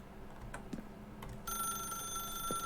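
A telephone in The Stanley Parable begins ringing partway through with a steady electronic bell tone, following a few faint clicks and thumps in an otherwise quiet room.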